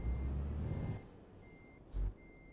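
Lorry reversing beeps in the video game Euro Truck Simulator 2, a steady high electronic tone repeating over engine rumble, with a brief burst of air-brake hiss near the end.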